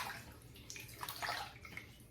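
Tap water runs steadily at a low, soft level while a face is wetted before a double-edge razor shave, with a few brighter splashes and no talking.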